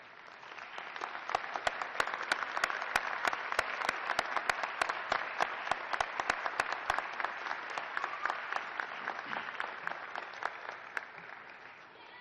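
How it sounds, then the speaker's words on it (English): Commencement audience at a Fitchburg State University winter ceremony applauding, a sustained wash of many hands clapping with a few sharp individual claps standing out, fairly distant and even throughout. "give them a well-deserved round of applause"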